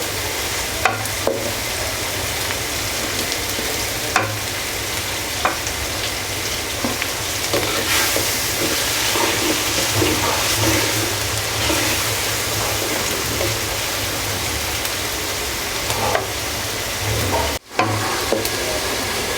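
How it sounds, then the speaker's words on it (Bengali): Onions fry in hot oil for Bengali ilish macher ghata, a steady dense sizzle that runs throughout with occasional faint stirring clicks and one sharp knock near the end. "এখন আমি তেলের মধ্যে পেঁয়াজ দিয়ে দিচ্ছি। পেঁয়াজটাকে আমি ভালো করে ভেজে নিব।"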